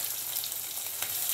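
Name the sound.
coriander seeds frying in oil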